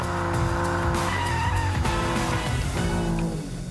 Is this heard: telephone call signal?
no